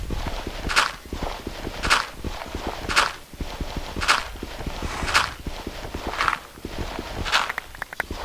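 A horse walks in the Minecraft video game, its hooves landing in a steady, even clip-clop of roughly one step per second, clear and close with no talking.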